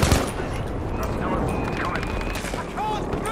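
Battlefield V combat gunfire: dense, continuous rattling shots and distant booms filling the whole stretch at a steady, fairly loud level, with faint voices mixed in.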